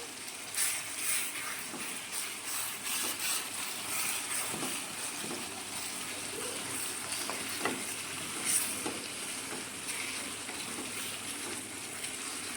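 Onion and cream curry sizzles steadily in a pan while being stirred, a continuous close frying hiss with occasional soft spoon scrapes and bubbling pops, no talking.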